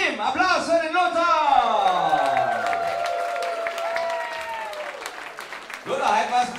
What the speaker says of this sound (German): Applaus für den Lothar!